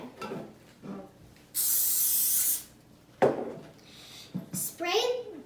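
Cooking spray hisses onto a 13 by 9 baking dish for pear cobbler, one loud steady burst of about a second, with someone talking before and after.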